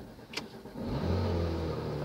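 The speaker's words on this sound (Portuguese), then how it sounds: "Acabei de ligar o motor violento." A Porsche GT3 engine fires up with a sharp click, then settles into a loud, close, steady low rumble that holds for the rest of the short stretch, with no one talking.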